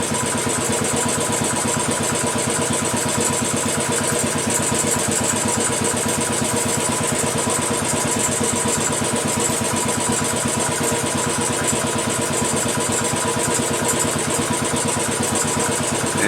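Royal Enfield Classic 500 single-cylinder engine being tuned with a Powertronic unit, its RPMs climbing back up to a steady fast idle; a loud, continuous, close-up mechanical thrum with rapid even firing pulses and no talking.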